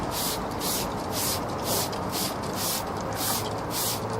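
A trigger spray bottle mists degreaser pre-wash onto a car tyre in quick repeated squirts, about seven or eight short hissing bursts in a steady rhythm, close and clear.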